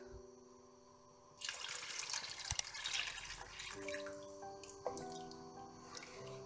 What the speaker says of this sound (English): Then add our remaining milk.